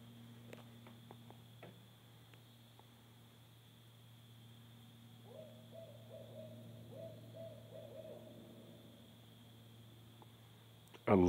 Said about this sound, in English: I believe that is the great barred owl.